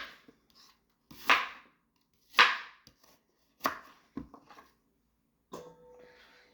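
Fresh-picked apples being cut for an apple pie: four or five sharp, close knife chops onto a board, spaced about a second apart, each a crisp thud alone in a quiet room.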